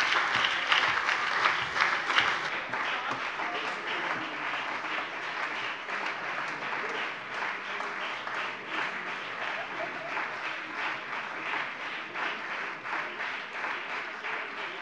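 Sustained applause from an audience in a German state parliament debate on energy policy after a minister's speech, with dense, even clapping that fades slightly toward the end.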